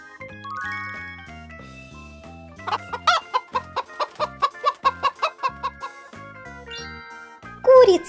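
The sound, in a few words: hen clucking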